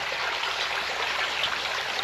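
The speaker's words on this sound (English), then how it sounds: "look at all the water flowing into it" A broad, steady rush of water pours fast into a drained pond, a continuous close roar with no pauses or voices.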